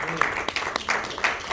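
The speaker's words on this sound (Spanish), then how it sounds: "Un fuerte aplauso al Señor." Scattered applause rises from a congregation during a Bible study, uneven claps mixed with voices and murmuring rather than a full ovation.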